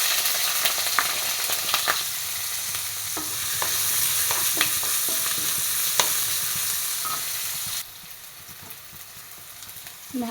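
Sliced onion fries in two tablespoons of hot oil, a steady close sizzle broken by repeated scrapes and taps of a spoon stirring, the sizzle dropping quieter toward the end.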